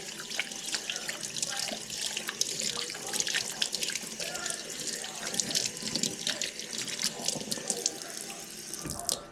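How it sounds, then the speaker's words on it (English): Hands are washed under a running kitchen sink tap at home while preparing shrimp for aguachile, with a steady, close stream of water splashing and shifting throughout. "I'm gonna wash my hands real quick."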